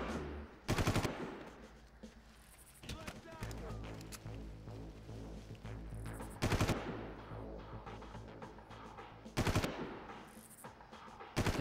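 Gunfire in the first Far Cry game sounds as several loud, sharp bursts spread seconds apart over continuous game sound and background tones.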